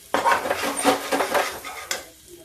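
Spatula scraping and stirring in a pan as besan dosa batter or bread pakora fries crisp, a series of uneven metallic scrapes and sizzling bursts, close and fairly loud, fading near the end.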